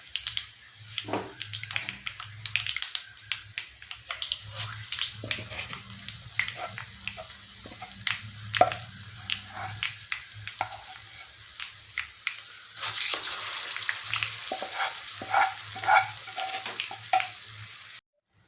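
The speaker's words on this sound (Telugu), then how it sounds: "ఇప్పుడు తాలింపు వేగిపోయింది. మనం రెడీ చేసి పెట్టుకున్న చట్నీ వేసేసుకుందాం" Gongura chutney is added to a hot tempering in a pan for Andhra gongura pachadi, giving steady close sizzling and frying with scattered crackles and stirring, growing brighter and louder toward the end.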